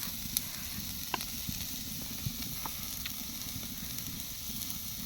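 Onions fry in hot mustard oil alongside goat fat and meat, a dense, steady sizzle close up with occasional sharp crackles and faint stirring taps, no talking.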